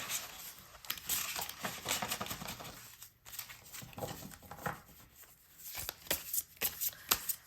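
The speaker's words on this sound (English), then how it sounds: "Let's shuffle this deck" A deck of tarot cards is shuffled by hand: repeated riffling and flicking bursts, close and crisp, in uneven clusters with a brief pause midway, no voices.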